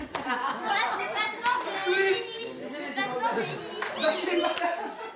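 A group applauds in a lively gathering, clapping mixed with children's voices and chatter; people talk throughout as the clapping rises and falls.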